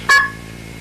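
A single short, loud Blue Box key pulse (KP) tone made of 1100 and 1700 Hz, a brief two-note beep that cuts off quickly, heard alone.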